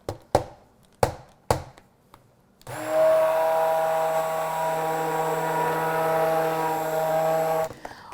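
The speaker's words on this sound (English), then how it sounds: "I'm just going to turn on my stick blender again to get a slightly thicker trace" A few sharp knocks, then a stick blender mixing soap batter whirs on with a steady high motor whine for several seconds before cutting off abruptly.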